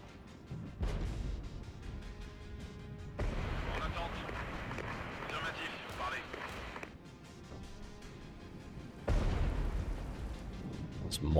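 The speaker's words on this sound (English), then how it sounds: "It's mortars." Mortar artillery fire in the Regiments video game, a battlefield barrage of repeated booming impacts and rumbling blasts that swell loudly in bursts, with a heavy final surge near the end, under the game's ongoing combat noise.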